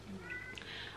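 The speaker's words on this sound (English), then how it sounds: "Sorry if you can hear the cat meowing in the background" A house cat meows once, faint and short, in the background of an indoor room.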